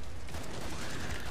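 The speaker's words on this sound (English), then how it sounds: "MP7. Sounds like a miniature minigun." Rapid gunfire from an MP7 submachine gun in the co-op shooter game Killing Floor 2, a continuous dense burst of shots close up, with no talking over it.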